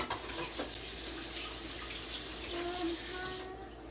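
Water runs from a tap and splashes into a bowl in a home kitchen, a steady close pour lasting a few seconds and fading at the end.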